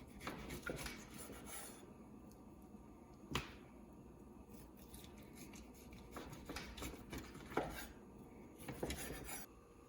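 A knife cuts smoked ham into cubes on a board, giving soft rubbing and rasping strokes with a few sharper knocks, close up and fairly quiet, with no talking.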